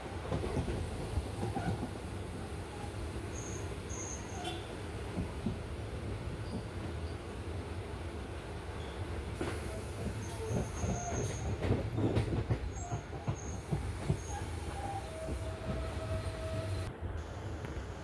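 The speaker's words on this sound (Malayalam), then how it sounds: "അങ്ങനെ കായംകുളത്തെ പ്ലാറ്റ്ഫോം നമ്പർ വണ്ണിലേക്കാണ് ട്രെയിൻ വരുന്നത്" A Kollam–Alappuzha passenger train rolls into platform one at Kayamkulam Junction, a steady rumble of wagons with squealing wheels and occasional rail clatter running continuously throughout.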